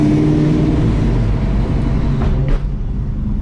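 A Foxbody car drives through a tunnel, a loud, steady low engine drone with road roar echoing around it and a brief whoosh partway through.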